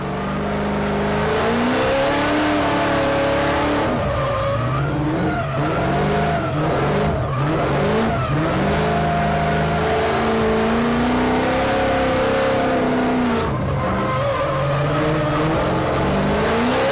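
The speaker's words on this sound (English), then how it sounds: "I got a little bit of warm-up on the skid pad" A car drifts on a skid pad, its engine revving hard and falling back while the tires squeal in long wavering howls, loud, close and continuous throughout.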